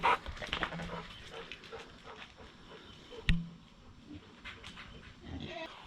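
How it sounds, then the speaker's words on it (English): A dog barks close by while pigs grunt and squeal nearby, with a few voices in the background. "He was barking at the pigs."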